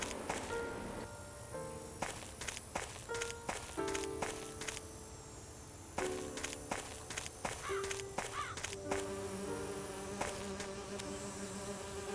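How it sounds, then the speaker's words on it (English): Bees buzz in the Agatha Christie: And Then There Were None video game, a steady insect drone mixed with game sound effects, footsteps and clicks throughout. "I need to subdue the bees first."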